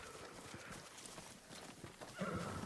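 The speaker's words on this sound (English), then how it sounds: "Oh, that's your horse." Horse hooves clip-clop steadily in the Ghost of Tsushima video game, and a neigh rises near the end over a continuous game ambience.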